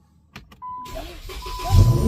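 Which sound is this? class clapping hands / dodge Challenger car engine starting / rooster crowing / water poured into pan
dodge Challenger car engine starting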